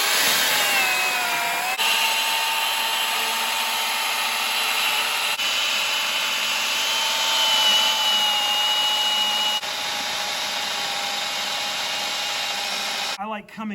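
A saw plunge-cutting through a hay bale gives a continuous high, whining motor buzz with a slightly shifting pitch, close and steady, ending abruptly in a brief clatter.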